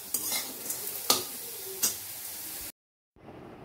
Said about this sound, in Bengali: আলুটাকে মচমচ করে ভাজতে হবে।